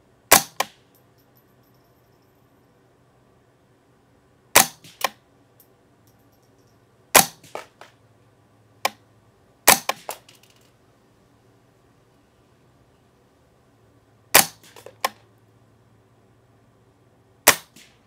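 Rifle shots at a shooting range, fired through a fixed-power scope at 50 yards: sharp, loud cracks at intervals of a few seconds, some with a quick second report, over near silence.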